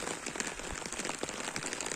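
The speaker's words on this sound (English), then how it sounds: "it is raining" Rain patters steadily onto surfaces in a village area, a dense, even hiss of drops with small splashes, heard alone.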